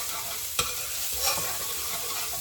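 Garlic frying in a hot pan, a steady close sizzle that runs throughout, with one sharp scrape of stirring near the start and a softer stir a little later, no voices.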